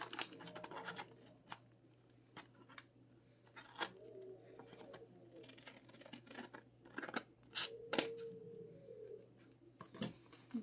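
Scissors snip through white paper, a series of quiet crisp cuts in an irregular rhythm, close to the microphone, with faint bird calls in the background.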